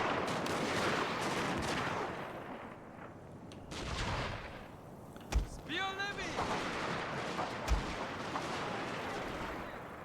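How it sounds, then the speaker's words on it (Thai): Musket and cannon fire from troops opening fire in a Shogun 2 Total War: Fall of the Samurai battle, 600 men against 2,000 rebels: a dense, continuous roar of battle with two sharp, louder reports and a brief warbling tonal call in between. "โอเคเปิดฉากยิงแล้วครับ"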